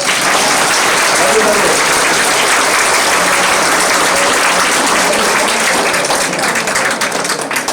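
A large audience at a community talk claps loudly and steadily, a dense continuous roar of many hands that holds for the whole stretch with only a slight easing near the end.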